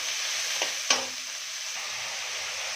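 Small mola fish fry in a hot pan with turmeric and a little salt, a steady close sizzle with a couple of sharp stirring clicks and no talking.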